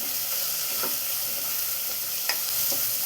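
Chopped tomato sautéing in a pan for a potato and spinach curry, with a steady soft sizzle and a few light stirring clinks, close and without talk.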